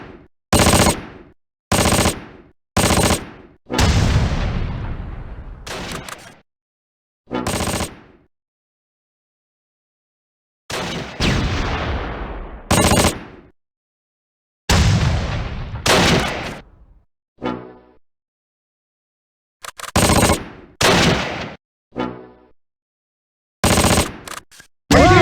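Gunfire in the WWII tactical game Close Combat: sharp rifle shots and machine-gun bursts in separate volleys, some with long echoing decays, loud and close, separated by silent gaps.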